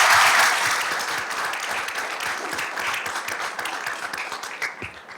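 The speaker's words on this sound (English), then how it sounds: "everyone, please join me in another round of applause for our retirees." An audience at a school board meeting applauds its retirees, a loud burst of many hands clapping that slowly eases off while a few claps linger near the end.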